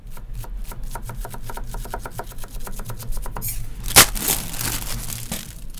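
Rapid, steady knife strikes on a cutting board as green onion is finely chopped, a long run of crisp taps followed by a brief louder scrape.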